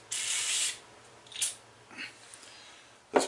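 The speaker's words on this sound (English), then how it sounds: "let's take a little CLP and spray it on a cloth" A hiss of aerosol Break-Free CLP gun lubricant spray onto a cloth bursts for about half a second, followed by a few soft rubbing and handling noises, then a sharp clack at the end.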